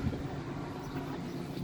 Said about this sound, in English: So what we do there is we turn on our blower